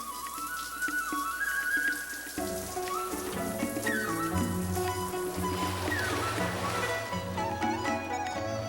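Shower water running in the Fear Effect video game, a steady rain-like hiss with spattering drops, mixed under tonal game music and a short whistle-like tone, continuous throughout.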